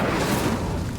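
A roaring burst from the Incendio fire spell in the video game Hogwarts Legacy: one continuous, loud, full-bodied whoosh of flame that fills the entire second without a break.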